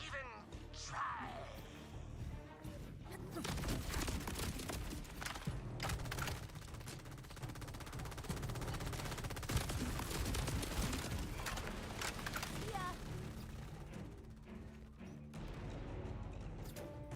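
Rapid automatic sniper rifle fire in the video game Borderlands 4, sustained and dense bursts with crashing impacts throughout, mixed with game effects and a voice speaking over it.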